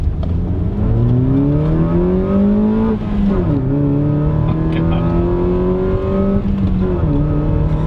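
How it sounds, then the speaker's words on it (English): Honda car with a cold air intake, loud induction roar as the engine climbs through the revs in long pulls, pitch dropping briefly at shifts before rising again, heard close from inside. "Hondas always have the best induction noise."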